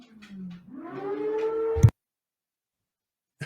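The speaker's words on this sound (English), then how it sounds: "that sounded like a tornado siren" A rising, wailing tornado siren tone climbs and sustains for almost two seconds before cutting off abruptly, loud and alone, followed by silence.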